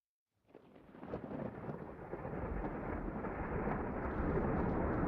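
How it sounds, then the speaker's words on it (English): Storm thunder rolls in abruptly and builds into a long, loud, continuous rumble with dense rain-like noise underneath, steady and growing stronger over several seconds with no voices. "thunder."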